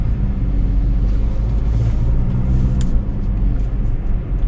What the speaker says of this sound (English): It's very quiet here on the inside, outside of the obvious engine noise that you can hear